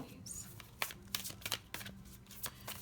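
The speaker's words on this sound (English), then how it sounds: "Do you see the difference in how the cards are shuffling now?" Tarot cards shuffled by hand in a rapid, uneven run of soft riffling flicks and slaps, close and fairly quiet, with a faint low hum underneath.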